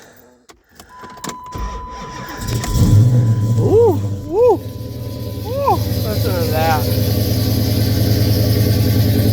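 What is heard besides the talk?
car engine starting after a month and idling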